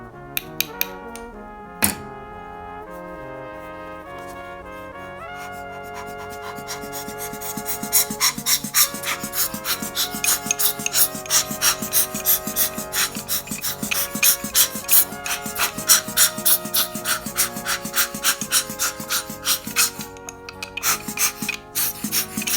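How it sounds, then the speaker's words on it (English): A small brush scrubs the burrs of a TIMEMORE Chestnut C2 hand coffee grinder. After a quiet start it becomes a steady, rapid scratching and rasping, close and continuous, with no talk. "lightly brushing against the inside burrs, the inner burrs"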